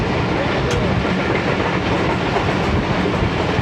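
A train passes at reduced speed through a railway station in Pakistan, a loud continuous rumble with rhythmic wheel clatter heard from on board, with faint voices in the background.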